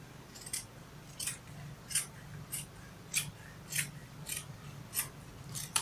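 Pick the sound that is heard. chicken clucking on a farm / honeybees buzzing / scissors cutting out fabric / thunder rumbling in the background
scissors cutting out fabric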